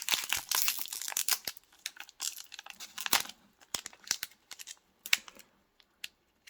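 A Pokémon card box's packaging being opened: close, irregular crinkling, tearing and plastic crackles in quick bursts, with short quiet gaps toward the end.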